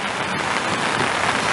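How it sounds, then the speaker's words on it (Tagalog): Heavy rainy-season downpour drums on surfaces in a loud, continuous hiss, close and unbroken. "Oh, lakas ang ulan oh."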